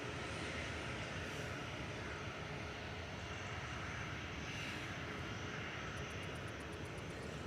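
A Singapore Airlines Airbus A350-900 touches down at Manchester Airport, its engine roar a steady, loud broadband rush that holds constant throughout with no voices.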